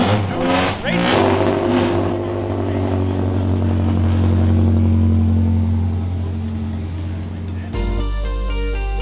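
Race car engines at Sebring raceway hold a loud, steady, low droning hum with a rough buzz on top for several seconds, then the sound cuts off abruptly near the end.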